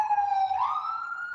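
An ambulance siren sounds from the street, a clear steady wailing tone that slides upward and holds, heard fairly close with little else around it.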